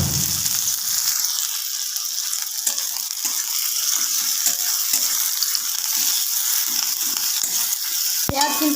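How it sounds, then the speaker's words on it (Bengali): Chopped onions dropped into hot mustard oil for banana-peel cutlets: a loud, steady, close frying hiss that runs throughout, with light stirring clatter beneath it and a sharp knock of utensil on pan near the end. "এবার পেঁয়াজ কুচোনোটা দিয়ে দেবো"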